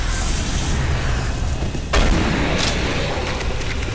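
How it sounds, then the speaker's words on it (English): One heavy boom from the double shotgun in Doom 3: Resurrection of Evil cuts through a steady hiss of game ambience midway, then the noise settles back. "Good old double shotgun."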